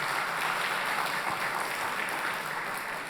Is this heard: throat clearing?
no